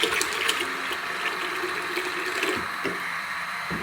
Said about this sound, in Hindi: और इतना पानी डालेंगे जितनी कि दाल गल जाए।